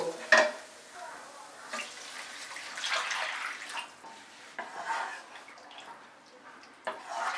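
A spoon stirs shredded chicken in a pot for homemade chicken soup, giving soft scraping and gentle sizzling swishes near at hand, with a sharp clink at the start and no talk.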